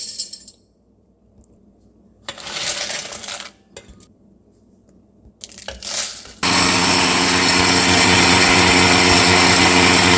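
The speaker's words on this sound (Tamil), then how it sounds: "இப்போ நம்ம மிக்சியில் போட்டுடலாம்." A kitchen mixer grinder grinds roasted sambar powder spices, first with short rattling pulses and pauses, then a loud, steady whirring roar that runs without a break to the end.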